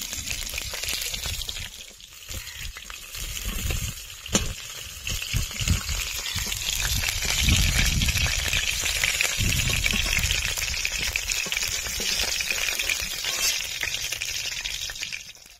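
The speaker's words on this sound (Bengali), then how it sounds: "আলুগুলো ভেজে নেব।" Potatoes frying in hot oil in a pan after fish has been fried, a dense continuous sizzle that swells louder midway, with occasional stirring clatter and no talk.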